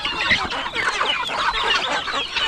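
Chickens on a Filipino backyard farm cluck and chatter continuously nearby, several birds overlapping in busy, steady calls without pause.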